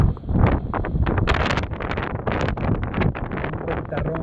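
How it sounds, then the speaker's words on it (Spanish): Strong gusty levante wind buffets the microphone in Medina in loud, irregular rumbling bursts that fill the whole stretch without letup. "Un viento huracanado."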